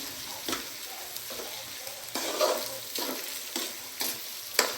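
Beef being stirred in a hot pan with beef bouillon cubes: a steady sizzle with repeated scraping strokes of the spoon, fairly loud and close, no talking.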